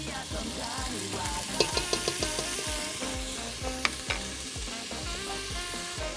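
Olive oil and garlic butter sizzle in a pan at an appliance expo cooking demo, a steady close frying hiss with a scatter of sharp pops and the clink of stirring, and no one speaking.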